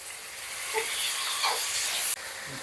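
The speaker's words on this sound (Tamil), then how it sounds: "இஞ்சி பூண்டு பேஸ்ட் வதங்கிடுச்சு" Ginger garlic paste sautés in a pan for a Tamil fish curry, a steady close sizzle with faint stirring scrapes and a brief break near the end.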